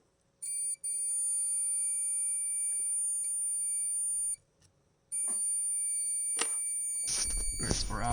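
A homemade vortex coil, tested for wattage, is switched on and emits a steady high-pitched electronic whine that cuts out briefly and returns, with clicks and handling noise near the end.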